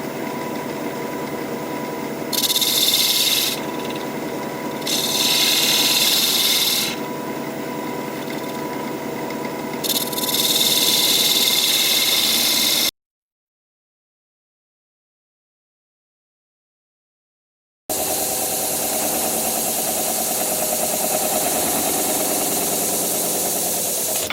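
A wood lathe hums steadily at about 1,000 RPM while a cutting tool undercuts a sycamore vase in intermittent scraping bursts, then cuts out to silence before the machine runs again.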